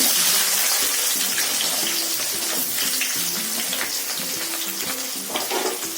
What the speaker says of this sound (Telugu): ఇప్పుడు మనము ఇది ఎర్రగడ్డ వేసేస్తాం